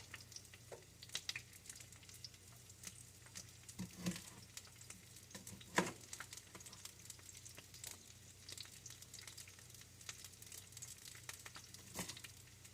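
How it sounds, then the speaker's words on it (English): Brussels sprouts fry in a pan with a low continuous sizzle broken by scattered crackles and small pops, heard close but faint over about thirteen seconds with no talking. "we're going to fry us up some Brussels sprouts"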